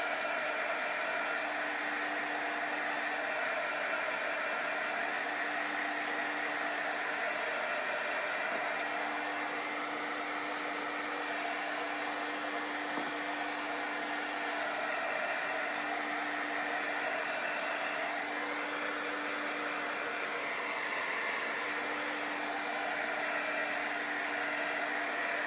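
Heat dryer blowing steadily over a chalk paste transfer, a loud, even whooshing hum with a constant tone that runs unbroken for about twenty-five seconds with no talk.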